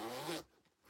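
A green zipper on a sewn item being handled gives one quick, close rasping zip that stops abruptly, leaving near silence.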